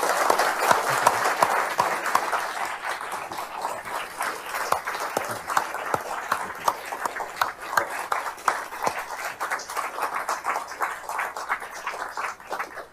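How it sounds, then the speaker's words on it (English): An audience applauds Richard Haass with steady, prolonged clapping full of distinct hand claps, holding at an even level throughout. "a round of applause for Richard Haas"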